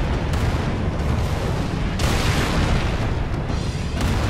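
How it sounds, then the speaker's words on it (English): Deep booming shots from a Wraith tank in Halo 3, heavy thuds and blasts landing repeatedly over sustained battle noise, with one loud impact midway. "the wraith is shooting me from all the way down there"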